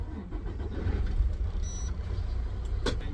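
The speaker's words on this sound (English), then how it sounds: "I'm breaking down and starting the truck." Freightliner Cascadia truck engine running after starting, a steady low diesel rumble at close range with little else over it.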